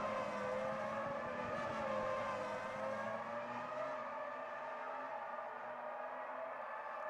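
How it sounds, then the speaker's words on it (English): Race cars from Automobilista 2 drone at Interlagos as their engines whine and shift pitch in the distance. The sound is steady and fairly faint, fading slightly toward the end, with no speech. "You can just hear those cars just blasting around in the distance."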